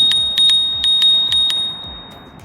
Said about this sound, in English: This is how the bell sounds.